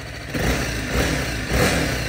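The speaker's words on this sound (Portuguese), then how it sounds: "tem barulho de válvula no motor, parece barulho de válvula" BMW G 310 GS motorcycle engine running close by, a steady mid-pitched mechanical drone with light ticking valve noise and small rises in revs.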